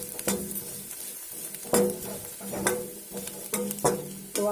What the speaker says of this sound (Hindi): हम दोबारा भी चूड़ा डाल के अच्छी तरीके से इसको भून लेते हैं।